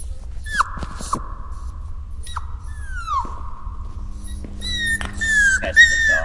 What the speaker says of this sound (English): That's the dog. It's a big dog.